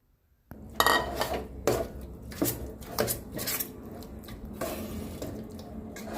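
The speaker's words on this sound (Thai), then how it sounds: "แล้วก็เอาหมูลงไปคั่วค่ะพี่น้องค่ะ" Minced pork stir-fried in a pan for laab moo, heard as a run of metallic clanks and scrapes of a spatula on the pan with light sizzle, close and fairly loud, no talking.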